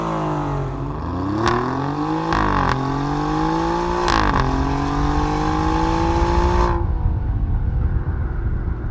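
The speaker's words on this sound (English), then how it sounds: "here's what the titanium exhaust sounds like for the regular Quadrifoglio" An Alfa Romeo Giulia Quadrifoglio with an Akrapovic titanium exhaust revs with several sharp throttle blips, then holds a rising, snarling pull before cutting off abruptly into a quiet rumble.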